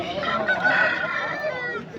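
A rooster of a short-nosed, long-tailed breed crows in a long, strained call filling the whole moment, loud and close, with faint clucking around it, at a livestock market in Krishnagiri, Tamil Nadu.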